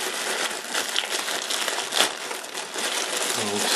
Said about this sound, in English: Came in a little plastic bag.